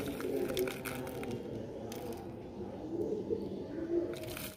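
Pigeons in a breeding loft coo softly and repeatedly, several low murmuring calls overlapping at a moderate distance, with faint background noise and no talk.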